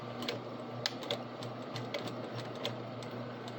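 A sewing machine runs steadily along the bottom piece of fabric, a close, even mechanical whir with rapid needle ticking and a few sharper clicks, quiet and uninterrupted by talk.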